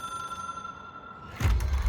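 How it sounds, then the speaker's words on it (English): Telephone ringing in the video game Control, a steady electronic ring tone for over a second before a loud low-frequency thump and burst of noise cut in near the end. "It is a phone."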